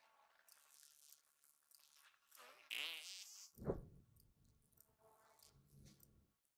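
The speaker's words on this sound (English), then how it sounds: "Did I just fart?" A fart in the game South Park: The Stick of Truth: a brief, low, buzzy blast stands out near the middle, with faint chirps and clicks around it in an otherwise quiet scene.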